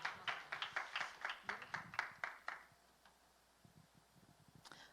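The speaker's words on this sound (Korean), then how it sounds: "큰 박수로 모시겠습니다." About a dozen sharp, evenly spaced claps ring out for a couple of seconds at a church youth worship service, then fade into a quiet room with faint rustling.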